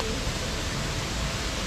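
River water flowing steadily at a spearfishing spot, a dense continuous rush of broadband noise that stays even and close throughout the short stretch, with no talk over it.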